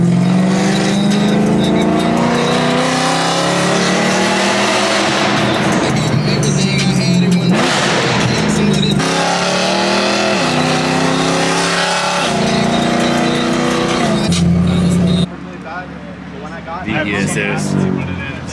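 A BMW E9x M3 at a car meet downshifts and revs hard, giving loud, close engine roars that climb and fall through several blips. Brief gaps separate the revs, and a short quieter stretch near the end is followed by more revving.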